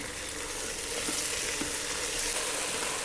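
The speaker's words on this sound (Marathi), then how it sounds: "सगळे बरें करून मिक्स करून घेया." Chopped cauliflower, chillies, tomato, potato and cabbage being stirred together in a hot pan for a veg bread sandwich filling, a steady close sizzle with a few soft spatula scrapes and no voices.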